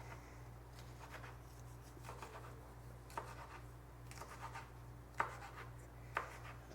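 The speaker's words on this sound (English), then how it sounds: "So you're just going to cut these finely." Habanero peppers chopped finely with a knife on a cutting board: a steady run of soft, close taps, with a few sharper knocks standing out near the end.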